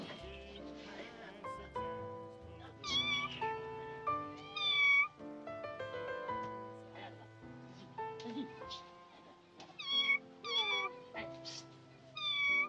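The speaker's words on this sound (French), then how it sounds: "vous lui faites peur à ce chat" A cat meows repeatedly, a series of close, clear rising and falling cries, some drawn out and plaintive, scattered over a bed of music.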